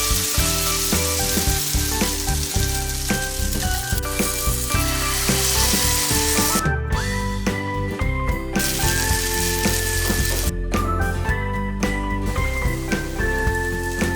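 Oats and vegetable chilla batter sizzles steadily on a hot oiled pan, a continuous crackling fry with a background of music, with no talking.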